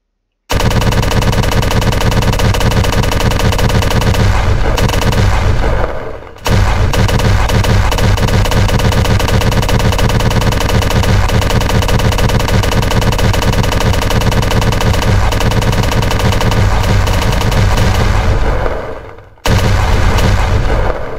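A hex spitter gun fires in a video game in loud, sustained rapid bursts, with two short breaks in the stream of automatic shots, close and dominant throughout.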